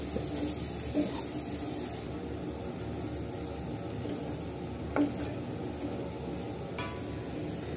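Turmeric and spices are mixed in a pan while preparing liver gravy, a low steady sizzle with soft stirring scrapes and a couple of light utensil taps, close and without speech.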